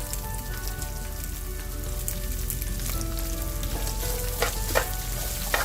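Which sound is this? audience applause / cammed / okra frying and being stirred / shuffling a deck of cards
okra frying and being stirred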